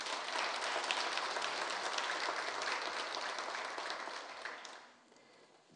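Audience applause at a Bulgarian award ceremony honouring worthy people, steady dense clapping that holds for about five seconds and then fades out near the end.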